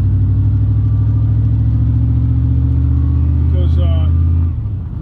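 Pickup truck carrying bicycles driving along, a steady loud low engine and road rumble throughout that cuts off near the end.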